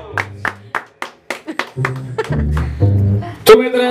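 Rhythmic hand clapping from a small audience at a birthday performance by a youth mariachi band, steady beats that blend into a sung line and applause.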